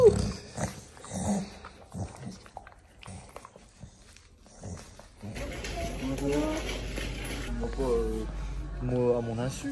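A small dog whimpers and growls in excitement, its whines rising in short bursts near the mic while someone talks over it indoors.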